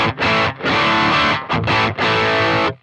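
Distorted electric guitar through a Boss GT-1000 with the reverb switched off, playing a run of loud, dry strummed chords with short gaps between them and no voices.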